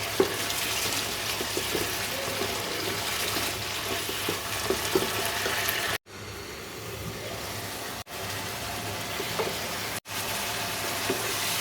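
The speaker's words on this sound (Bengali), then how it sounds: "গ্যাসের চুলায় হলো জিরা ভেজে নিতেছি" Cumin seeds fry in a pan on a gas stove, a steady close broadband sizzle that holds throughout, briefly dipping at three moments as the pan is stirred, with no one talking.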